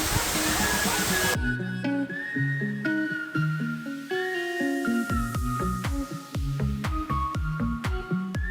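Rushing water of Tumalog Falls in Cebu roars loudly for about a second and a half, then cuts abruptly to melodic music that fills the rest.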